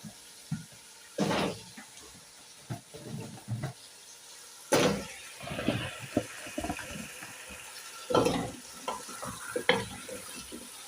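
Arrowroot and bean stew is stirred in a pot, giving scattered scraping and bubbling sounds in irregular bursts, with a quiet cooking sizzle underneath.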